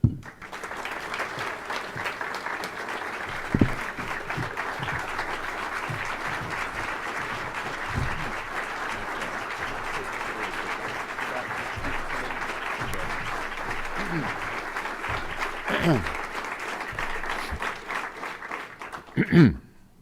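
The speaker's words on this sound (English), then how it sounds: "warm round of applause for Republican Senate Leader Mitch McConnell" A live audience gives a warm, sustained round of applause for Republican Senate Leader Mitch McConnell at an economic development event in Northern Kentucky, steady clapping filling the whole stretch before tapering off at the end.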